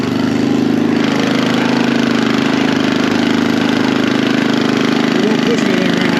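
A 45-year-old two-wheel tiller engine idles loudly and steadily in snowy, icy conditions, a constant low mechanical drone running the whole time with no other sounds standing out.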